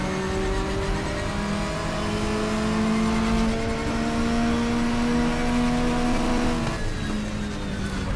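A misfiring race car engine in the sim racing game GTR2 Power and Glory, a 1987 WTCC touring car at Silverstone, drones loudly and continuously with slowly shifting engine tones.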